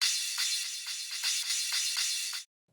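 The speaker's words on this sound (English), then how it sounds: "So to begin with, I did have this little crash fill," A sampled crash cymbal fill plays as a bright, hissy wash with several quick re-struck swells in a short roll, loud and close, then cuts off abruptly into silence.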